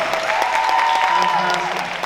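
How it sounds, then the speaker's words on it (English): An audience gives a sustained round of applause for an organizer at a community diversity event in a school auditorium, steady clapping throughout with a faint tonal feedback hum and some voices mixed in. "How about another round of applause for Vidura for putting all this together?"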